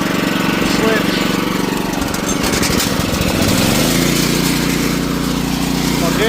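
A small gasoline engine on a crop sprayer fires up and settles into a loud, steady running drone that drives the tank agitation, with a rough sputtering transition as it catches.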